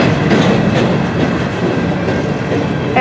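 A Norfolk Southern freight train rolls past on the rails, loud and close, with steady wheel rumble and rhythmic clickety-clack of railcars passing.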